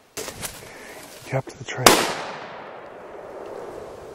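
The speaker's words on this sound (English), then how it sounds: "A shot from the 458 soon changed his mind." A .458 rifle shot fired at a charging bull: one sharp, loud crack that rings away into a long fading tail, after a few scuffling thumps and a brief spoken line.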